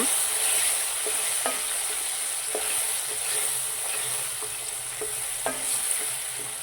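Ground masala and onions fry in a pan for a village-style mango gojju curry, with a steady close sizzle broken by regular scraping stirs of the spoon.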